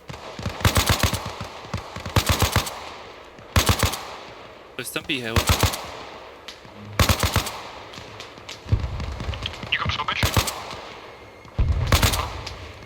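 Rapid bursts of gunfire in ARMA Reforger crack out again and again, loud and close, while two people talk over the shooting in Ukrainian.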